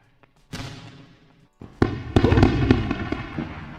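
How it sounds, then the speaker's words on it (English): Several firework bursts crack and boom, one early then a rapid cluster of loud blasts with crackling tails, fairly close. "Fireworks show."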